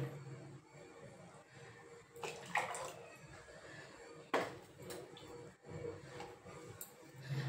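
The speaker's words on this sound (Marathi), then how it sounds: "तर इथे मी 3 वाटी दूध घेतेय।" Three bowls of milk poured into a pot for making sheera, a sweet semolina dish, splash and gurgle in short bursts with a few soft clinks of the vessel, close up in a quiet kitchen.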